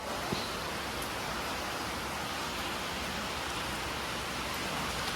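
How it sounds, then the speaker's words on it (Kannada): Heavy rain pouring down in a dense, steady hiss with no pauses, alone and without voices. "ತುಂಬ ಮಳೆ ಬೀಳ್ತಾ ಇದೆ"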